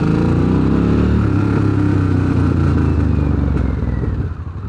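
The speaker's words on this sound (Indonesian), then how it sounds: "knalpotnya udah dibobok, jadi harusnya nggak sekeceng ini suara knalpotnya." Harley-Davidson Sportster S 1250 motorcycle with an opened-up, hollowed exhaust revving up close, a loud, throaty, pulsing engine roar with rising pitch that holds steady and then eases off near the end.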